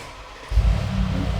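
Mercedes G63 AMG G-Wagon fitted with a Valvetronic exhaust starts up: a quiet moment, then the engine catches about halfway through with a loud low burst that settles into a strong, steady rumble.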